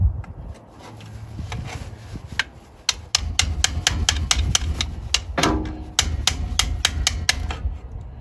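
Wood chisel tapped through a rubber seal on a 1957 GM rear differential being torn down from a 36 Chevy coupe: a close series of sharp metallic clicks, sparse then quickening into a fast rhythmic run over a low hum.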